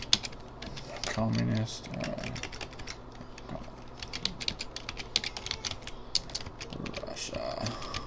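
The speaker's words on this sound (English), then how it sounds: "Type in up here at the top." Rapid clicks of computer keyboard typing during a Call of War strategy game, uneven bursts of keystrokes with someone talking over them.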